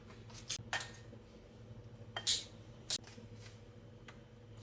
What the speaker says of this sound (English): So I'm gonna cut them up